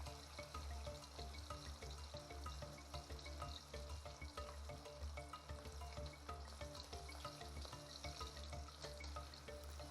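Beef pieces frying until crispy for Szechuan-style crispy orange beef, a steady dense sizzle and crackle of hot oil running the whole time, close and fairly loud, with no one talking.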